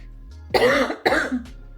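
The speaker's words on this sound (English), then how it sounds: "still have a bit of a cough" Two harsh, close coughs in quick succession from someone with a lingering cough after bronchitis, followed by a brief faint throat sound.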